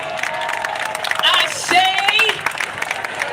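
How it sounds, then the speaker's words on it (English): A rally crowd at a Juneteenth reparations event claps and cheers, a steady wash of applause with whoops rising above it while a voice carries over the noise. "Clap it up for your black selves for being here today"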